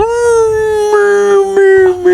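A person's voice imitates a dog's howl and whine: a loud, close, sustained tonal howl that wavers and breaks into higher whimpering pitches over about two seconds, with no other sounds.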